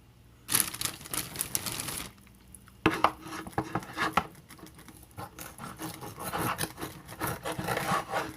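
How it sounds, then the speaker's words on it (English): A serrated knife saws through the gristle and cartilage of a raw rib strip, giving rough, rasping back-and-forth strokes in close uneven bursts, with a brief pause between cuts. "This is where a serrated knife really comes in handy."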